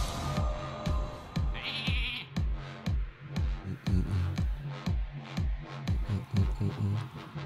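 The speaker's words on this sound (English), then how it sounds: "Why you gotta kill my sheep, Chow?" Repeated sheep bleats from the video game Card Combat in a quick, rhythmic series, loud and close, with a brief high-pitched electronic tone partway through.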